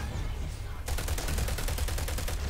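Rapid automatic gunfire from the NSX Tanto weapon in the video game PlanetSide 2 starts abruptly after a short lull and continues as a fast, even burst of loud, sharp shots.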